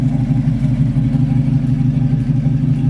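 A 1970 El Camino V8 fitted with Flowmaster mufflers, an Edelbrock Performer intake, matched cam and Edelbrock carburetor idles with a deep, lumpy, rhythmic burble, close and steady throughout.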